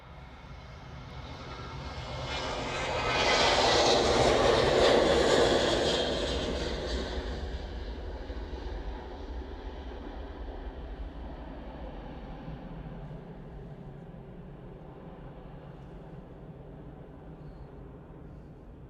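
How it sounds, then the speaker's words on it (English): A Jet2 airliner departs from runway 23 left at Manchester Airport bound for Ibiza, its engine roar swelling loud a few seconds in, peaking, then fading into a long steady rumble. "And just about to depart, I should say. On 23 left is this Jet 2 going to Ibiza."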